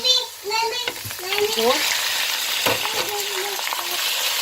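Meat hits lightly browned onions in a hot pan for daal gosht, giving a loud, continuous sizzle under someone speaking, with a sharp clatter partway through.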